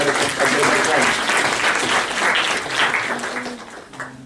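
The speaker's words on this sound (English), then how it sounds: "Let's applaud" An audience at a Model UN opening ceremony breaks into sustained applause, dense and fairly loud clapping that holds steady for several seconds before starting to thin toward the end.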